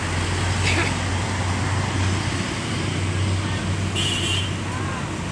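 A bus, formerly ALS 094 and now with PO Haryanto, drives along the road, a steady low engine drone under constant traffic noise and a faint murmur of voices.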